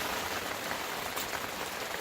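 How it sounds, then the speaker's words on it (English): Steady rain falling in Lincoln National Forest on a rainy day, a dense even patter of drops hissing continuously at moderate level with no pauses and no voices. "It's raining."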